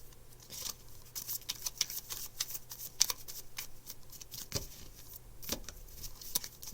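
Tarot cards being shuffled and handled, a close run of soft, papery riffles and slaps with irregular bursts of crisp flicking, steady throughout with no talking.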